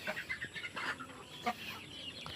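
Native chickens in a brooder area cluck and chatter continuously at close range, several birds overlapping in soft, busy calls with no talking.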